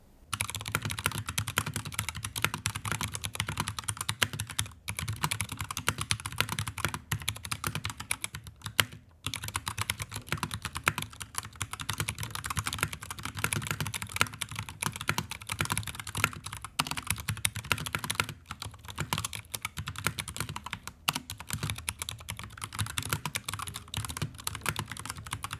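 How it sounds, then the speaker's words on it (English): Steady, close-miked typing on a mechanical computer keyboard, a continuous patter of key clacks with a few brief pauses, heard alone without talk. "it's time for a little keyboard ASMR"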